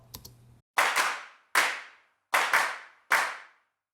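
Sharp clap samples from a drum mix, heard alone: a couple of soft ticks, then crisp snappy claps in pairs and singles with short decaying tails, spaced at an even, looping rhythm.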